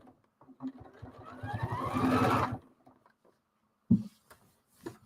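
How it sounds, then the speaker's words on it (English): A sewing machine backstitches the corners of a quilt in one close, rapid chattering burst of about two seconds, followed by quiet and a couple of small clicks. "I'm gonna backstitch at the corners."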